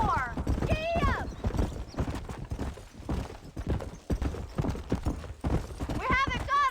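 Horse hooves clatter in a rhythmic galloping beat in the video game Red Dead Redemption, mixed with a few neighs and whinnies, while voices shout over the hoofbeats.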